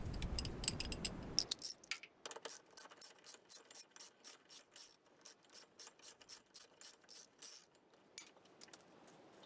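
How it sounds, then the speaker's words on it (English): A hand ratchet clicks steadily in quick bursts while turning a bolt on an 08-16 Ford Super Duty body mount, following a brief burst of louder mechanical noise at the start. "We'll go ahead and switch over to the ratchet."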